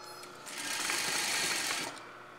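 Sewing machine running steadily as it stitches along the edge of a blouse, one continuous close burst of whirring that swells and holds for about a second and a half before easing off.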